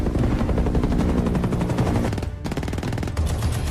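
In an action film scene, rapid bursts of gunfire ring out as a man fires blindly into the sky, loud dense automatic shots, a brief gap, then more shots.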